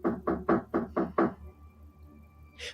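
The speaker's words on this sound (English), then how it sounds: "After a couple of minutes, the banging started again." Six heavy, evenly spaced knocks bang on a door as a horror story sound effect, loud and close, followed by a quiet pause and a faint sound at the end.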